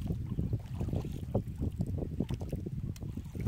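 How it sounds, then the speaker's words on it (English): Wind buffeting the microphone while paddling a small boat on a creek, low rumbling gusts in an irregular rhythm, close and moderately loud with no talk. "I hope the wind's not tearing it up too bad."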